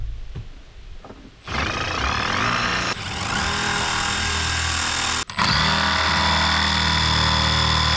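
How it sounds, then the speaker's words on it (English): Power drill boring holes into a bass boat during a windshield install, starting after a quiet moment and whirring loud and steady up close, with a brief cut near five seconds before the drilling resumes. "So we're gonna start drilling our holes out."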